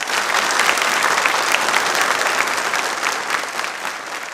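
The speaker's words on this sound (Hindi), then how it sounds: "एक बार तालियां जोरदार हो जाएं" Loud, dense audience applause at a televised studio quiz programme marking Dr. B. R. Ambedkar's birth anniversary, many hands clapping steadily without a break and tapering only slightly toward the end.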